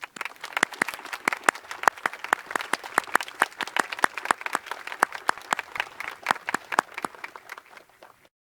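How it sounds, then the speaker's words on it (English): Graduation ceremony audience at Crown Point High School applauds the standing staff members, a steady crowd of many hands clapping with sharp individual claps close by, continuing for about eight seconds before fading out. "Staff members, please stand for applause."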